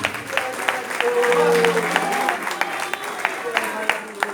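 A church congregation applauds during a sermon, a scattered patter of claps building and thinning over a few seconds while a voice speaks over it.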